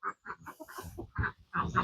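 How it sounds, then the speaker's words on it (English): Chickens milling about inside a farm barn, giving a close series of short clucks and soft squawks in an uneven rhythm, fairly faint with brief pauses between calls. "There's some chickens hanging out in here"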